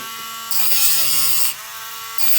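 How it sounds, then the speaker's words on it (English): A Dremel rotary tool cuts through a plastic part of a 1957 Revell XSL-01 space ship model kit. The motor whines at a high, steady pitch and rises in brief bursts as the bit bites in. It is close and loud, with no talk. "I'm just going to take my Dremel tool and I'm just going to cut."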